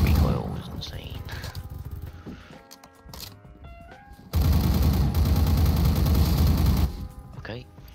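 Saiga shotgun with no choke fitted, fired in the Phantom Forces shooter game: loud bursts of blasts, with a dense sustained stretch of heavy fire in the middle, under bits of talk.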